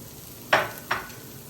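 A spatula scrapes and stirs onions and garlic sautéing on a Blackstone griddle in two short, sharp strokes, with a faint sizzle underneath.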